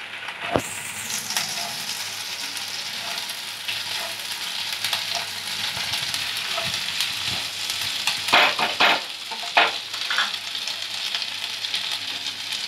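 Ginger and garlic paste sizzles steadily in a hot pan with spices, a constant frying hiss broken by sharp crackles and a few stirring clatters near the end.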